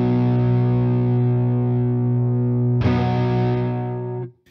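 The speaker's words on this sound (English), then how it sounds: "it turns this from just being a standard kind of Tubescreamer clone into something that becomes a solo boost, a bit more of a bluesy pedal" An electric guitar through an i Scream overdrive pedal, a Tubescreamer-style clone, plays a sustained distorted chord that is loud and close. It is restruck partway through, then cuts off abruptly.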